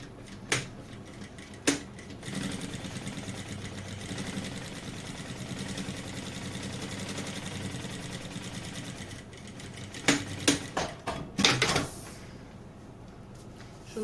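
Sewing machine running a long steady stitch joining lining fabric to synthetic material along a zipper, a continuous motor whir with handling clunks and knocks near the start and end.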